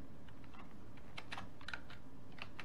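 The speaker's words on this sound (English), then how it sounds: "at the command prompt, type in" Keys on a computer keyboard tap out a command in short uneven bursts of crisp clicks, close and fairly quiet, with no voices.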